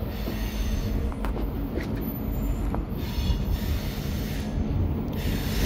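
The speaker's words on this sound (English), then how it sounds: "I got a train coming right now." A train rolls past steadily with rumbling wheels and occasional high metallic squeals, moderately close, no voices.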